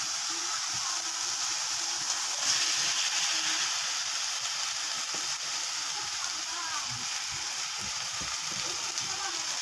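Shrimp frying in a pan for Indonesian sambal goreng, a steady bright sizzle and hiss throughout, with faint stirring knocks underneath.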